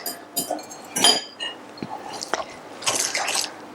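Utensils clink against a bowl while spinach is stirred into pancake batter, giving irregular sharp taps and scrapes with quiet gaps between them.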